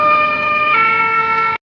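A loud, steady ambulance siren holds multiple sustained tones that shift pitch once midway, then cuts off abruptly after under two seconds with no voices.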